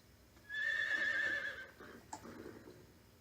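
A horse in the Metal Gear Solid 3: Snake Eater video game gives one loud, close neigh lasting about a second, trailed by a short snort and faint shuffling.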